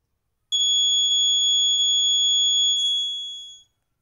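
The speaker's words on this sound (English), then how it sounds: "You will observe the buzzer continues to buzz for a few seconds even after you disconnect the clip." An electric buzzer wired in a simple capacitor circuit sounds one steady, loud, high-pitched tone for about three seconds, then fades out as the stored charge runs down.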